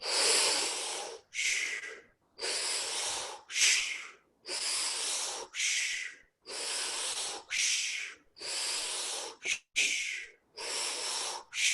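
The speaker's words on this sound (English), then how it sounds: "inhale through the stomach, inhale through the chest, and then exhale, release" A group does a fast breathing exercise with sharp nasal inhales and exhales that alternate in quick, rhythmic bursts at close range.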